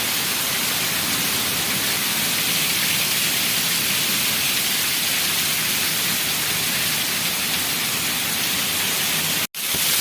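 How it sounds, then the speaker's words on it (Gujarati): Heavy monsoon rain pours onto waterlogged farm fields, a loud, unbroken hiss of falling water that holds steady and then cuts out with a brief dropout near the end. "આમ ધાર તૂટતી નથી વરસાદ"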